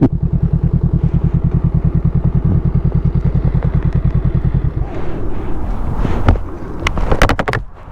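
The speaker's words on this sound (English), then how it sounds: "a little pop from the exhaust there" A Honda Rebel 500 motorcycle with a new aftermarket exhaust idles in a fast, steady thumping beat, then the engine cuts back and the exhaust lets out a few sharp pops and crackles, close and loud.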